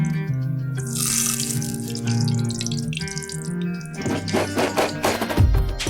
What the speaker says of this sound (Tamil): கொஞ்சம் எண்ணெய் சேர்த்துடலாம்.